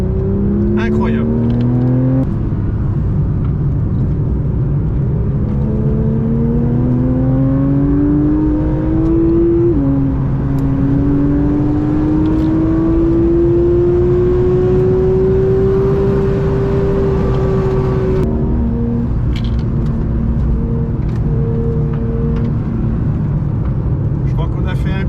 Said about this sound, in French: La voiture s'inscrit dans les courbes.